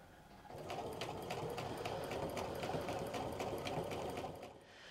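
A sewing machine stitches fabric for pull-on pants, running in one steady, fast mechanical whir with rhythmic needle ticks for about four seconds before slowing at the end.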